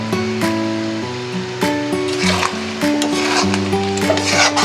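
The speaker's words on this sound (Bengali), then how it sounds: "ভুড়িতে কিন্তু সব রকমের মশলা দিয়ে সুন্দর করে কষাতে হবে।" Beef tripe is stir-fried in a pan with garam masala, coriander paste, salt and turmeric, giving a steady scraping and sizzling close by under a layer of music.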